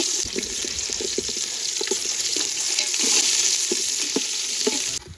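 Small onions fry in a pan for village-style crab gravy, giving a loud, dense sizzle with crackling pops and occasional utensil knocks that cuts off abruptly near the end.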